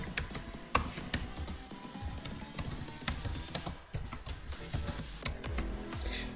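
Fingers typing C++ code on a computer keyboard, a quick irregular patter of sharp key clicks with brief pauses, close and alone.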